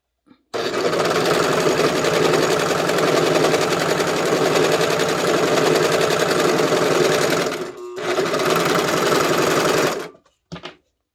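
A serger stitches along a skirt's seam edge in a loud, steady, rapid mechanical whir for several seconds, stops briefly, runs again, then cuts off with a short final burst.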